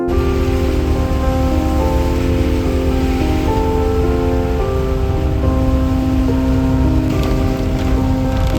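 Heavy monsoon rain pours down on a muddy mountain road between Gangtok and Lachung in Sikkim, a loud, dense and unbroken hiss of drops drumming on surfaces throughout, with no talking.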